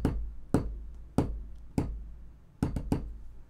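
A hand raps on a hard surface, tapping SOS in Morse code: sharp close knocks in a sparse rhythm, three spaced taps and then a quicker cluster, clear against a quiet room.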